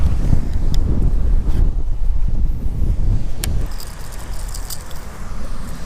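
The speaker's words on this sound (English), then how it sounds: "It is so windy that that tripod actually blew over" Strong wind roars across the microphone on an open Florida pond shoreline during a bass fishing outing, a loud, continuous buffeting rumble with gusts that swell and ease, with no voices.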